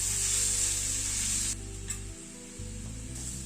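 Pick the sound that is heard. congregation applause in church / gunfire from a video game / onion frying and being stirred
onion frying and being stirred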